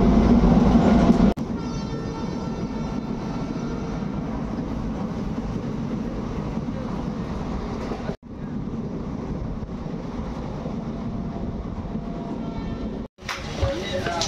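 Steady rumble of a moving passenger train heard from inside a carriage on the way to Varanasi, continuous and fairly loud with brief dips, as people talk over it.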